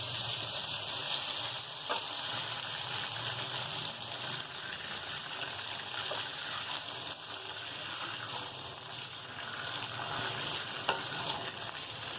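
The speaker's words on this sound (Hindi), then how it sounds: "ये जो फ्राई हो चुके हैं हमारे कोफ्ते" Koftas fry in hot oil with a steady, soft sizzle and bubbling crackle, punctuated by occasional light stirring taps, fairly quiet and continuous without talk.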